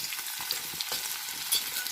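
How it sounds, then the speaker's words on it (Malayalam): Chopped onion frying in hot sunflower oil, a brief, even sizzle with small crackles and pops. "ഇനി അതിലേക്ക് നമ്മൾ നേരത്തെ അരിഞ്ഞു വെച്ചിട്ടുള്ള സവാളയാണ് ഇട്ട് കൊടുക്കുന്നത്."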